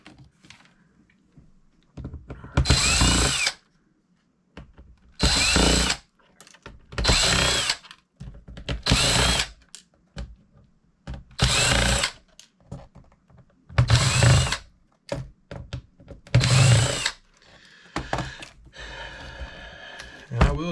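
Power drill whirs in a string of short bursts as it backs screws out of a laptop being scrapped, loud and near, with quiet gaps and clicks between runs and no talk.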